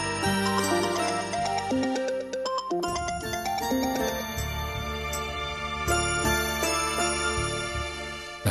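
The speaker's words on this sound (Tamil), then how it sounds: "போன் ரிங் ஆகுது" A mobile phone ringtone plays loud and close, a bright melodic tune that runs continuously with no voices over it.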